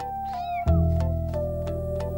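Young kittens, a few weeks old, give several short, high meows as they start to explore and play, heard close and clear over a steady low droning background.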